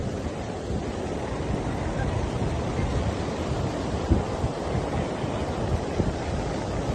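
Strong wind and ocean surf at Suryalanka beach make a loud, continuous roar that stays fairly even and is broken by a few brief gusty bumps, with no voices.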